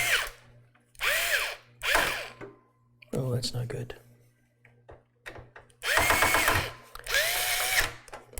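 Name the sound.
power screwdriver driving screws into PC case standoffs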